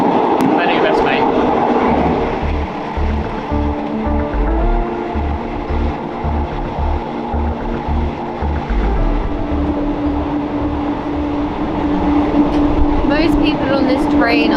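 Inside a moving passenger train in Thailand at night, a steady rumble with rhythmic clickety-clack of wheels over the rails, loud and close throughout.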